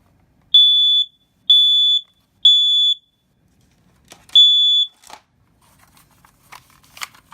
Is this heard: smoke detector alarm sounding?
yes